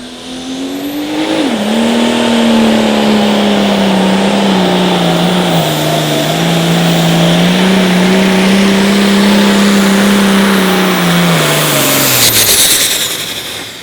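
A loud, sustained pulling tractor engine roar at a light limited pro stock tractor pull, held at high revs for over ten seconds, droning steadily with slight pitch shifts before fading at the end.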